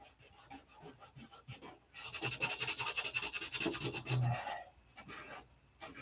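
Fine sandpaper, 1,000 to 1,500 grit, rubbing over painted bodywork in steady rasping strokes, close and fairly quiet, with a brief stretch of louder rapid scrubbing midway.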